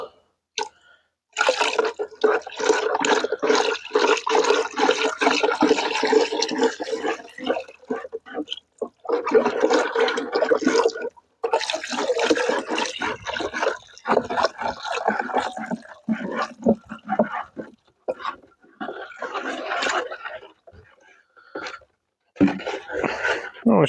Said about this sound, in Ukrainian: Тепер купорос вливаю в вапно і помішую.